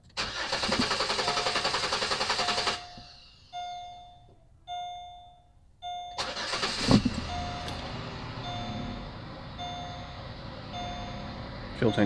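A 2005-2010 Pontiac G6 cranked after a fuel pump replacement: a long cranking whir, door chimes during pauses, then a second crank catches and the engine settles into a steady idle up close.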